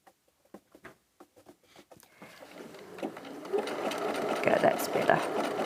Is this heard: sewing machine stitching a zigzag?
yes